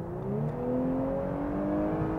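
An Audi S5 Cabriolet with its V6 pulls hard from 60 to 120, the engine note climbing steadily and droning loud and close for the whole stretch, with no one speaking.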